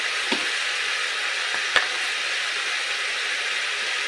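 Desi chicken being sautéed with salt in a pan gives a steady, close sizzle with soft crackle throughout, broken by a couple of sharp utensil clicks against the pan.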